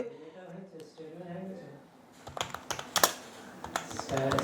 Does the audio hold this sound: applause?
no